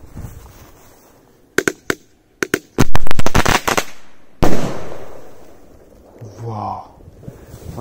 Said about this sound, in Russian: Люблю такие взрывы. Супер мощные.